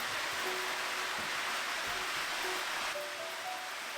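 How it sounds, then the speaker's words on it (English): Steady shower spray patters densely and evenly on houseplant leaves, a constant hiss of droplets striking a surface, close and unbroken. "The sound of the water hitting the leaves is so calming and peaceful"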